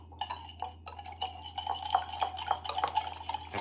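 Eggs being whisked in a bowl for mango gulaman, a quick run of light clinking taps of utensil against the bowl, close and clear, with no talk.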